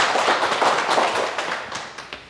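An audience at a Sunday Buddhist lecture bursts into applause, a loud, dense patter of many hands that fades gradually over about two seconds.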